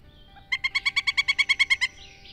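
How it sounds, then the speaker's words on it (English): A pileated woodpecker in a backyard woodland gives a rapid series of about thirteen loud, evenly spaced ringing calls, clear and alone against quiet surroundings. "The pileated also has a very distinctive call."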